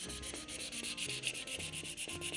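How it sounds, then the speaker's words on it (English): Sandpaper rubbing back the polish on a wooden Tannoy Windsor speaker cabinet, working with the grain in steady, repeated strokes that make a continuous close scratchy hiss with a regular rhythm. "start flattening it back with the grain, and you'll see the surface flouring up"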